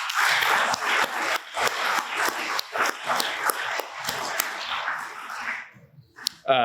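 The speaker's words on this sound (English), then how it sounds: "Let's give them a big round of applause" Audience at a city State of the City presentation clapping in a dense, brisk round of applause that fades after about six seconds, ending with a short voice.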